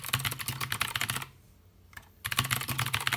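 Rapid, close clacking comes from keys on an Obins Anne Pro wireless RGB mechanical keyboard, typed in steady bursts with a short quiet pause in the middle and no talking.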